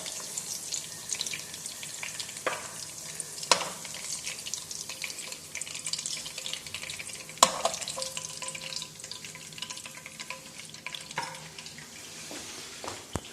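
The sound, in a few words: crumb-coated fish frying in a pan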